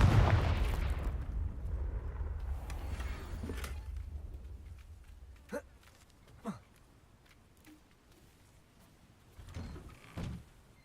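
A Confringo spell explosion in Hogwarts Legacy opens as a deep, rumbling blast that slowly fades. A few soft, isolated thuds follow in otherwise quiet surroundings.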